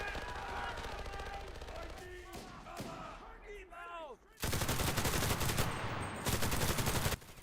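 Rapid bursts of PPSh submachine gun fire in a Stalingrad video game battle, loud and dense in the second half, following earlier talk and explosion sounds.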